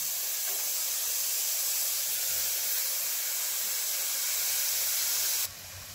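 Sprouted moth beans dry-roasting in an iron kadhai give off a steady, close, even sizzling hiss that holds without pause, then drops away abruptly at the end.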